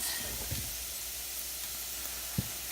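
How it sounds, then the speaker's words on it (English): Spinach sautéing in a pan with a little salt, giving a steady soft hiss and sizzle throughout, with a couple of brief clinks or stirring bumps. "Saute this down for another 2 minutes just till you get it until it's tender to how you like it."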